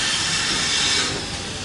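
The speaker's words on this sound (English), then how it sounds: "Yep, steam train number 2." A steam locomotive on a heritage railway vents a loud, steady broadband hiss of steam that holds for the whole moment, close by, with no talk.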